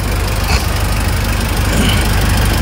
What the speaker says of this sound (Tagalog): Ayan po yung pinaka-importante sa lahat, makina. Naka-aircon pa to, mabigat siyang dapat.